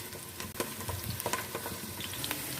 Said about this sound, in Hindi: लहसुन और प्याज को 2 से 3 मिनट के लिए हल्की आंच में हम फ्राई कर लेते हैं